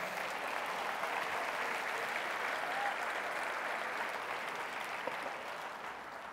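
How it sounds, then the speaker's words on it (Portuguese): A church congregation breaks into sustained, dense applause during a sermon, a steady wash of clapping that holds evenly and fades slightly at the end. "quer aplaudir ao Senhor?"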